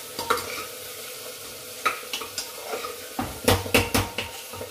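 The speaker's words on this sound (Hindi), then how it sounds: "तो सारे मसाले मैं इसी में भून ले रही हूँ।" Masala spices fry in a pan, a quiet sizzle broken by sharp scrapes and clinks of a spoon stirring against the metal, coming in irregular bursts up close.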